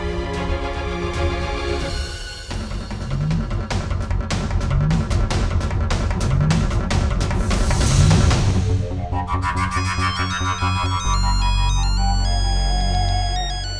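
A melodic phone ringtone plays loudly and continuously, a repeating electronic tune with rhythmic pulses that shifts pattern partway through, with no speech.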